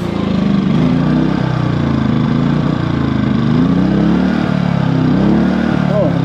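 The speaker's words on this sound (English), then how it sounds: "Actually had the generator on eco mode." A portable generator runs in eco mode with a steady, droning engine hum that holds constant and close throughout, in a garage workshop where a tool box is being turned into a welding table.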